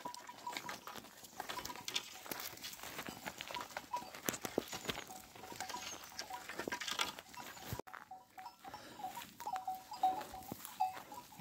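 Three sheep run across a field toward a pear tree at first light, making an irregular patter of hooves and rustling at moderate distance, uneven in loudness, with no voices.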